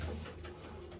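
A pigeon coos low and soft in a brief burst near a nesting basket, a short murmuring call that is quiet and close.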